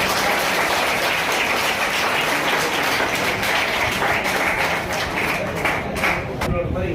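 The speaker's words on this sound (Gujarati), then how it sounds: "મંગલ સર માટે જોરદાર તાળીઓ પાડો" Steady, dense applause from a seminar audience honouring Mangal sir at a career guidance event, a continuous wash of clapping hands filling the hall without a break.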